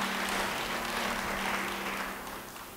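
A church congregation applauding together, a dense continuous wash of many hands clapping at once, loud and steady throughout before easing slightly at the close, with a low sustained hum beneath.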